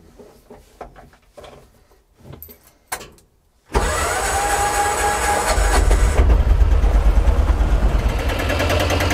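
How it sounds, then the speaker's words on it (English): A Piaggio Ape Classic 400 diesel three-wheeler starts and idles with a loud, steady chugging rattle, following a few scattered clunks and knocks before the engine fires. "I'll give it a go with the engine running"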